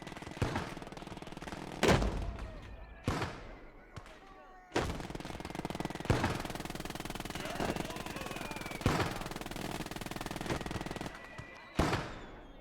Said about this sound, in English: Do we have range on that Lee gun? We do. Let it rip, boys.